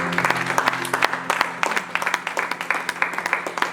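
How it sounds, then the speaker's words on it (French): A church congregation claps throughout in a dense, close burst of applause. Sharp hand claps sound over a bright crowd wash, with faint voices mixed in underneath. "Nous acclamons pour le Seigneur Jésus-Christ."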